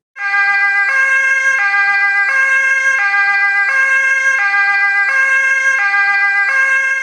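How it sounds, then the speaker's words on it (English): Ambulance siren wailing in a loud, steady two-tone pattern, alternating high and low pitches about every three quarters of a second, close and sustained with no voices. "is immediately picked up by an ambulance for preventive urgent admission"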